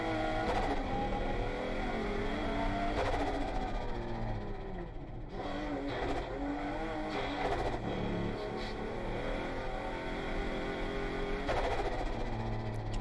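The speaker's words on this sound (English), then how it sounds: "Cracking noise that he's got on that blow off." A high-revving race car engine in a racing game drones steadily with sharp crackling pops from its blow-off valve bursting at intervals, loud and continuous without any talking.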